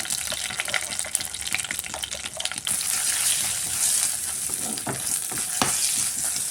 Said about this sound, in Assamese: তেলকণ গৰম হ'বলৈ দিলোঁ আৰু তাতে পাঁচফোৰণ আৰু শুকান জলকীয়া দুটা দি দিলোঁ।